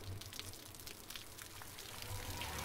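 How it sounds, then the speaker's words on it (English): Rain pattering steadily in the Call of Cthulhu video game, a soft continuous hiss of drops with low ambient rumble underneath, faint and unbroken with no talk. "Rain."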